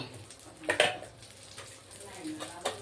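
Bay leaves and dried red chillies are tossed into hot oil in a pan and sizzle softly, with a couple of clinks from a spoon against the pan.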